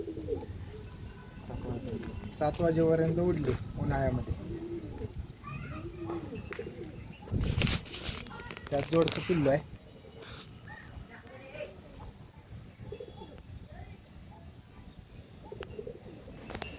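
Champion-line tournament racing pigeons coo repeatedly nearby in a loft, soft throaty calls with occasional chirps, heard under a voice talking throughout.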